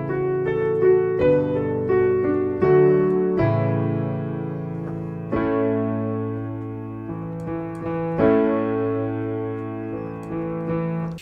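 The intro of a song played on piano: a steady flow of sustained chords and melody notes that keeps going for several bars, close and clear, with no voices.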